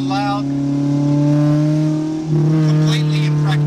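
A car fitted with an SCRM Climax exhaust revs with a loud, steady, droning note that dips and climbs again, followed by a few brief crackling pops near the end.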